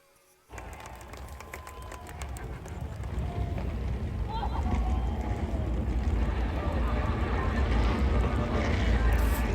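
Several NASCAR engines rumble together at a distance at Atlanta, the roar building gradually and holding steady after the start command, with crowd noise mixed in.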